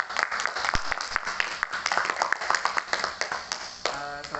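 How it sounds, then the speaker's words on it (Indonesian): A classroom of students claps for a group presentation in a history teaching-methods class, brisk uneven applause of many hands close by, with a voice coming in near the end. "Boleh dikasih tepuk tangan dulu"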